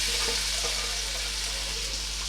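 Onions fry in a pan with a continuous, even hiss of sizzling oil at close range, alone with no voices.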